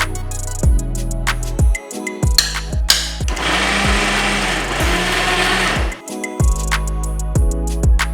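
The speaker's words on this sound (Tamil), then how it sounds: "மிக்சி ஜாரில் கூட போட்டு நம்ம புட்டு பதத்துக்கு அரைச்சி எடுத்துக்கலாம்" A mixer grinder jar grinds cooked puttu, whirring in short bursts, then running in one longer stretch of loud, rough grinding, with a steady hum underneath.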